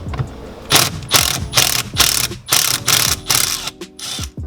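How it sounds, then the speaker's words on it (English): A hand ratchet turns T30 screws on a Nissan 370Z carbon steering wheel, giving a loud, close run of rapid clicking bursts in a steady repeating rhythm with short pauses between strokes. "But if you broke, use your ratchet"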